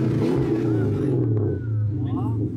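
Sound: V8 engine revving

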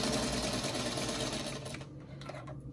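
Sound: sewing machine stitching a quilt block

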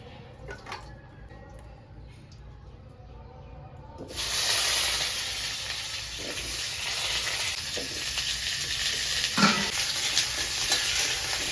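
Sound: frying ground garam masala spices with black pepper

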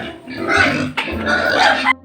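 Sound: pigs oinking on a farm

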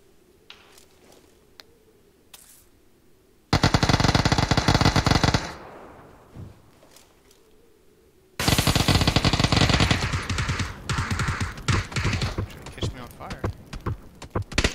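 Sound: gunfire in the video game PUBG

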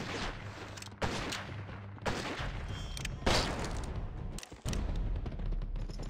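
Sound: sniper rifle gunfire in the video game GUN

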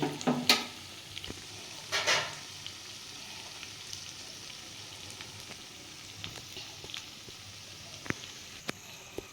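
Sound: pakoras of leftover rice frying in a pan

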